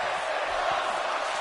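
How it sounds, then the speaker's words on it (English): A wrestling crowd at an EXW Thursday Revolution event roars and cheers in a dense, continuous wash of noise, loud and sustained from start to finish. "Oh, we already got the crowd into it. They're cheering."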